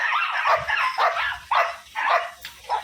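A dog barks in a rapid series of sharp, agitated barks and yips, close by, about six bursts in quick succession.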